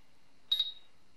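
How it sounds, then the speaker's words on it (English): A FrSky Taranis radio transmitter gives a single short, clear electronic beep as a control reaches exact center, with near silence before and after. "So now if this my control will be exactly in center position, my radio will beep."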